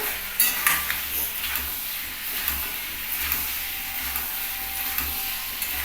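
Poppy seed paste is stirred into onions frying in oil for aloo posto. A continuous soft sizzle and hiss runs under intermittent scraping and light metallic clinks from the utensil against the pan.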